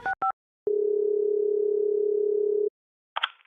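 A steady electronic tone sounds alone for about two seconds after a couple of short beeps as a phone call is placed, then cuts off and is followed by a brief noisy burst.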